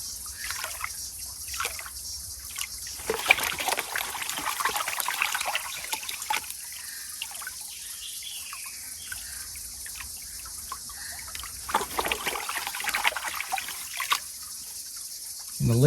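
Water sloshes and trickles steadily in a gold pan as light material is washed off the top, with gentle swirling splashes and a few louder surges, close and continuous with no talking.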